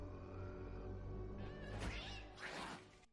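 A cat meows from a television show playing in the room, heard as several drawn-out wavering cries over a steady background of music and other show audio.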